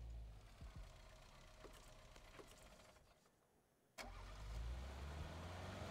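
A car engine runs in a video game, a steady mid-pitched hum that drops away briefly before surging back louder and rougher, with no talk over it.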